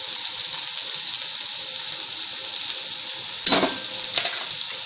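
Steady, close sizzle of turmeric frying in hot oil for Maharashtrian pithla, a continuous crackling hiss with one brief louder clatter near the end.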